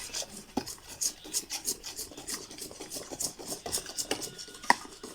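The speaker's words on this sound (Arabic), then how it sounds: "نفضل نقلب نقلب، انا كل ما بقلب كل ما بحس انه بيتقل معايا" A wire whisk stirs a thickening homemade detergent gel in a bowl with steady, rapid scraping and rasping strokes. The strokes come in a continuous rhythm, close and fairly loud, with no talking.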